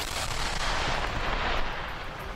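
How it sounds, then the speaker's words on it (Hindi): Collected unexploded Russian bombs detonated together in a large pit in Ukraine, producing a dense, loud, sustained rumbling roar with crackling bursts that stays heavy for the whole stretch and eases slightly at the end. "जैसे ही उन सभी बमों को धमाके में उड़ाया गया, वहां धूल का गुबार छा गया।"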